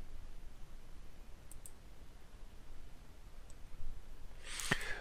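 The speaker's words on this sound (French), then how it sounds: "En double-cliquant dans la fenêtre projet, je vais aller chercher le dossier" A computer mouse gives a faint, quick pair of double clicks, a lone soft tick later and a brief louder rustle near the end, all in a quiet room.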